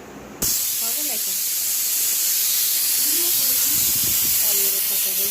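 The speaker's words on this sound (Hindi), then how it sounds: "उसके लिए मैं कर रही हूँ टिक्की फ्राई" Tikki snack patties fry in a pan at home, a loud, steady hiss and sizzle of oil that starts abruptly and continues throughout, close up, with a voice talking over it.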